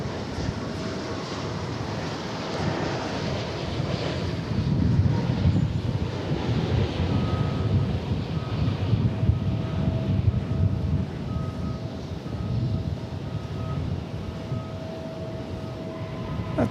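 A heavy airliner arriving from Honolulu gives a steady, distant roar with wind buffeting, swelling slightly in the middle and then holding an even drone.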